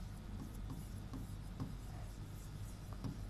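Steady scratchy strokes of handwriting, likely chalk or pen on a board during a Hindi-language lesson, running continuously with faint rhythmic scrapes and no talk over them.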